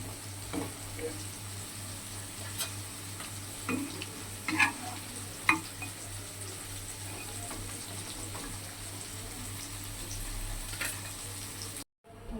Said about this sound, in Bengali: দেখো আমার বড়াগুলো ভাজা হয়ে গেছে, এবার তুলে নেবো এগুলোকে।